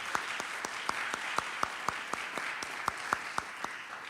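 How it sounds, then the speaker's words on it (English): An audience at a TEDx event in Eastchester claps under a steady background of applause, with a few louder, regular nearby claps standing out in an even rhythm. "can we give him a round of applause,"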